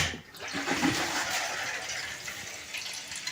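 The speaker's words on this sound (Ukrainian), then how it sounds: "Система наповнюється водою." Water rushes steadily through pipes as a water pump station system fills after a pressure gauge replacement, a constant gushing hiss with no voices.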